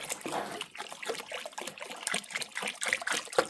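Water pours into plastic jugs, a soft steady trickle and gurgle at close range, fairly quiet and continuous.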